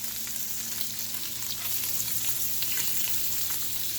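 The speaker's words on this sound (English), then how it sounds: "This one is starting to do the bacon grease sizzle on top thingy." Strips of bacon fry in a cast iron pan and a nonstick pan side by side, giving a steady, dense sizzle with fine crackling pops throughout and no voices.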